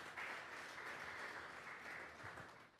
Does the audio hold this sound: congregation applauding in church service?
yes